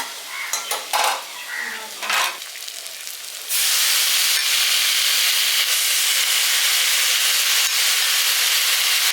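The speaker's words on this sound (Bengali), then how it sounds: "এবার পালং শাকটা দিয়ে দিচ্ছি।" A few clinks and scrapes of a spoon in the pan come first, then fresh spinach hits the hot oil and bursts into a loud, steady sizzle that holds to the end, for a village-style spinach potato curry.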